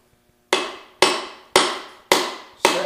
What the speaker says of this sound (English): you just want to tap ever so lightly until you get your piston